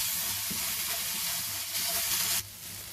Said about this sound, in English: I'm also going to add my thinly sliced potatoes, and we'll give a good mix again